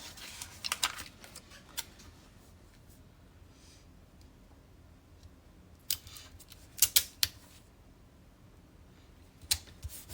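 Scissors cut out paper stickers in a quiet room, giving scattered sharp snips with a tight cluster of louder cuts near the end and soft paper rustles between them, close and without talk.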